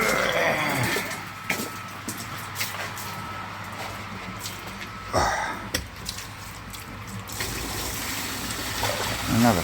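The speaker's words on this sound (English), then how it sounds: "Oh, that bucket's overfilling." Water spilling over the rim of an overfilling bucket beside a koi pond, a steady close trickle and splatter running throughout with a few louder splashes and brief quieter gaps.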